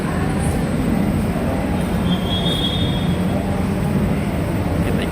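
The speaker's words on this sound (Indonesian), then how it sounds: "Kereta di stasiun Bekasi sekarang" A commuter train at Bekasi station produces a steady rumble and rolling rail noise, with a faint high squeal drifting in briefly, all continuous and fairly loud.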